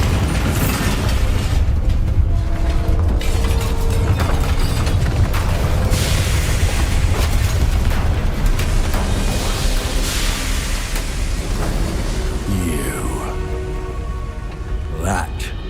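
Bombarda spell explosions in Hogwarts Legacy during a battle with goblins, a loud, continuous roar of booms and crackling debris with voices talking underneath.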